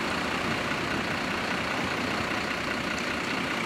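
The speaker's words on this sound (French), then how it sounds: "Tu peux me dire pourquoi tu laisses tourner le moteur quand tu attends?" A vehicle engine left idling while waiting, a steady, continuous low mechanical rumble held close and even throughout, with no talk over it.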